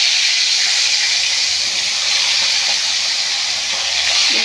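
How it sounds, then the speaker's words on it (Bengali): Hilsa fish frying in hot oil, a steady loud hiss and sizzle that holds evenly and continuously close up, with no talk. "তেলটা আমার গরম হয়ে গেছে জানেন বন্ধুরা। মাছটা আমি ভেজে নেব।"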